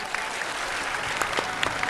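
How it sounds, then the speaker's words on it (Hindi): An audience claps together in a steady, dense burst of applause that lasts a couple of seconds, fairly even in loudness with no talking over it. "वाह, ताली बजाओ।"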